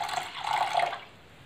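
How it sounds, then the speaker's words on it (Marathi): Water poured into milk for rice kheer, a short close splashing pour lasting about a second before fading out. "त्यामुळं मी थोडंसं पाणी घातले."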